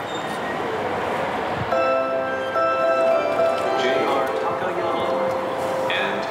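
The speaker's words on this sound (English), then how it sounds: "But first, we'll continue on a local train to Takaoka." A local train bound for Takaoka rumbles along the rails with a steady low roll and faint tonal squeal, while a voice talks over it.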